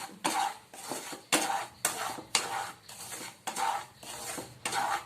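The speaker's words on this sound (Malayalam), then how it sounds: "റവ ഇതിലേക്ക് ഇട്ട് കൊടുത്തിട്ട് നമുക്കൊന്ന് വറുത്തെടുക്കാം ചെറുതീ വെച്ചിട്ട് തന്നെ" Semolina (rava) being stirred as it roasts in ghee in a pan over low heat, a spoon scraping the pan in steady repeated strokes with clinking metal, close and fairly quiet, no talk.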